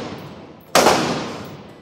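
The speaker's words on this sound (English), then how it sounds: "Just got done shooting the RA-15." A single gunshot from an RA-15 rifle at a demo day range, one sharp loud crack that decays over about a second, with quieter background noise before it and no talk.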